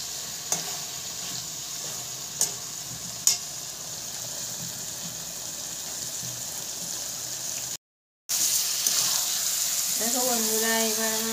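Chicken curry meat sizzling in oil as it is sautéed, with a steady frying hiss, several sharp scraping stirs early on, a brief silence, then louder sizzling under a rising hum.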